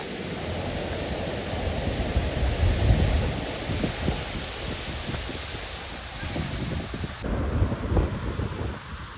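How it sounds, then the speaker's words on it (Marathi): A steady, full roar of falling water from a second waterfall along a walking route, loud and unbroken throughout with a slight swell midway, no voices over it. "दुसऱ्या वॉटरफॉल पाशी आलोय आता"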